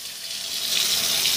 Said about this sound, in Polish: Po przełączniku nam kapie, mikroprzełączniku nam kapie do wanny.